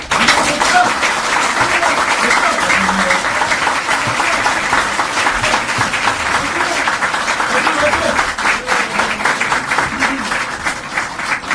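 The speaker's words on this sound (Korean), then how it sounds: "박정훈 위원장께 뜨거운 박수 부탁드립니다." Sustained, loud applause from a large audience at a political press event honoring committee chairman Park Jeong-hoon, thick and continuous for over ten seconds, with faint voices mixed in beneath the clapping.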